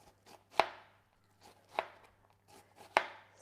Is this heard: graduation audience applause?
no